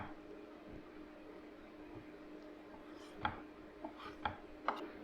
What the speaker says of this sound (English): Similarly with the prawns, I like to cut it into 3 pieces.